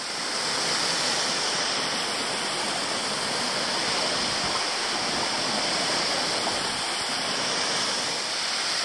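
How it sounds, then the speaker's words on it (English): Victoria Falls Cascade waterfall in the Blue Mountains, New South Wales, pouring beneath rock overhangs in a rocky amphitheatre, a continuous full roar of falling water heard close up with no break. "I've come out at the very pretty Victoria Falls Cascade"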